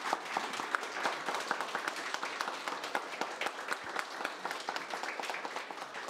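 A crowd applauds steadily at a ceremony honoring a police captain, many hands clapping at once in a dense, sustained patter at moderate distance.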